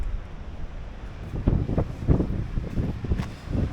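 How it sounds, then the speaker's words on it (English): Strong wind buffets the microphone on a beach at Gualala, a steady loud roar with gusty swells and rumbling surges, no voices heard. "I don't know if you can hear me with all this wind"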